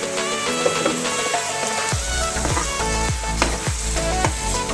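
Onions sizzling with salt in a hot pan, a dense continuous frying hiss with repeated soft stirring knocks over a constant background hum; loud and close, no voices.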